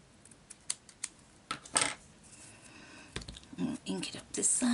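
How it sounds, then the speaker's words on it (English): Scissors trimming paper for a handmade coin envelope, a few quiet close snips and paper rustles, with soft talk partly over them. "on this side we might just trim it down a little bit here"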